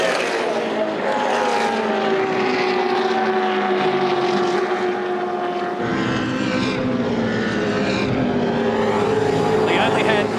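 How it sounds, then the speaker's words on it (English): Loud, continuous engine roar from V8 Supercars racing at Eastern Creek Raceway in 2007, with pitch sweeping up and down as cars accelerate and change gear, sustained for the whole stretch. "this is intense motor racing"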